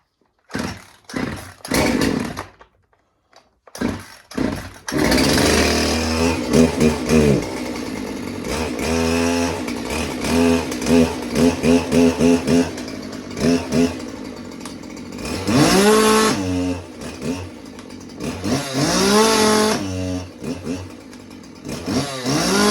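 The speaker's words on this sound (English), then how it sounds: "we're just going to start it with the brake engaged" A ported Homelite VI-130 chainsaw pulled over a few times, then catching and running loud and close, its engine revving up and dropping back repeatedly with rough idling between bursts.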